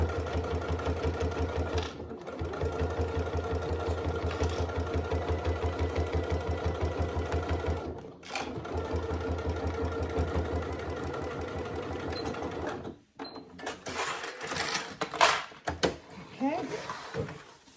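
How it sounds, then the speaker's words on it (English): Sewing machine stitching a seam on a wash bag at a half-inch allowance, a steady close whirring run broken by two brief stops, then ending in scattered handling clicks and rustles. "just ease it over a bit and continue sewing, but at a 1/2 inch seam allowance"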